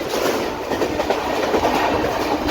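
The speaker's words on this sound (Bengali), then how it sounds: "নিচে হচ্ছে হাওড়া যাওয়ার লাইন, এই যে হাওড়া যাচ্ছে ট্রেনটা" A train runs along the line toward Howrah, heard from aboard a long-distance express, with a loud, steady rumbling roar and faint rhythmic wheel clatter throughout.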